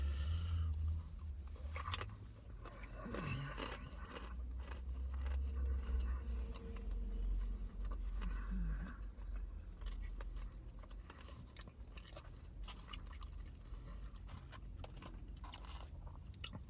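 Chewing on KFC Smoky Mountain BBQ chicken tenders, close and steady for several seconds, with soft crunchy bites and wet mouth sounds over a low background rumble.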